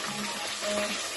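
Mixed vegetables hit a hot frying pan for pineapple fried rice, giving a steady, close hiss of sizzling oil with no voices.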